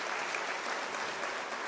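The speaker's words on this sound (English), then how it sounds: "I think this also requires a round of applause" An audience applauds at an academic-year closing ceremony, a dense, even patter of many hands that runs steadily throughout, moderately faint and heard alone without voices.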